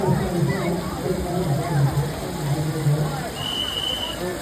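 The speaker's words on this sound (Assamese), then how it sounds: "এনেকৈ পানী পৰি আছে" Water trickles and splashes over a stone decoration at a Durga Puja pandal, a steady wash of falling water beneath a crowd murmur, with a nearby voice talking throughout.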